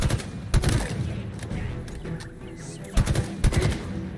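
Bursts of gunfire from the video game Halo Infinite, with loud broadband shots clustered near the start and again toward the end over a continuous busy battle din.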